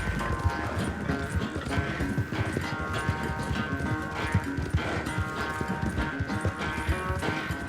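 A horse galloping in a game setting, with dense rapid hoof clip-clops pounding steadily throughout, loud and close over layered background sound.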